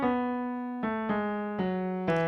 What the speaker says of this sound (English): And Joy to the World sounds like this.